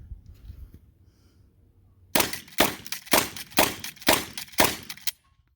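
A Norinco 1897 pump-action shotgun slam fires in a rapid string of six loud, sharp shots about half a second apart, coming after a quiet start with faint low rumble.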